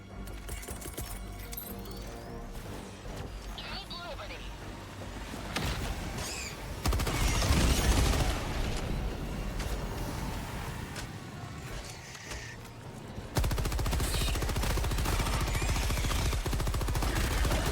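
Sustained automatic fire from the Stalwart machine gun in Helldivers, a dense continuous rattle of shots running through most of the stretch, mixed with battle noise and a louder burst toward the end.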